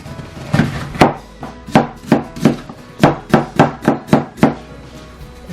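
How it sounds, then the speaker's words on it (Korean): Knife finely chopping vegetables on a cutting board for kimchi seasoning, a steady run of sharp close taps, irregular at first then faster and evenly spaced. "믹서기에 갈기 위해서는 좀 더 잘게 썰어줘야 되겠죠?"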